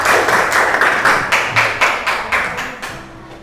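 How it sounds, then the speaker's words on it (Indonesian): A classroom of students claps for a group in quick, rhythmic bursts of hand claps that repeat steadily and then fade out. "tepuk tangan untuk kelompok 4"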